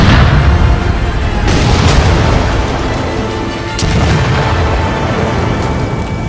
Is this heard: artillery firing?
yes